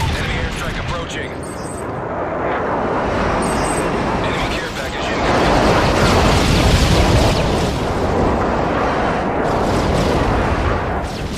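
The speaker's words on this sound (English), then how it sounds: "Enemy airstrike approaching." Heavy booming bomb blasts from an enemy airstrike in a multiplayer shooter game, a dense continuous rumble of explosions that swells and stays loud throughout, with game radio voices talking over it.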